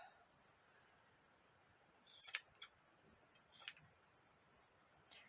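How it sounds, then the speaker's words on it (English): Scissors trim the edges of a doll's hair in a few quick, quiet snips, close but faint against near silence. "I'm going to take my scissors and I'm going to trim this all the way around."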